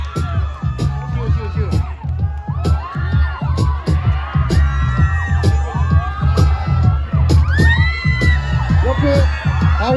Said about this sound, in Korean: 모두 큰 박수로 맞아주시기 바랍니다.